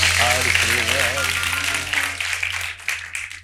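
Studio audience applauding a singer on a Turkish late-night talk show, steady broadband clapping from the crowd throughout, with a voice speaking over the first half and the applause thinning slightly toward the end.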